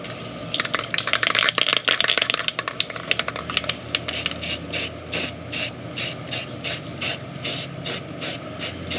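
A rattle can of self-etching spray primer is shaken with a quick metallic ball rattle, then sprayed in a series of short regular hissing bursts, close and fairly loud.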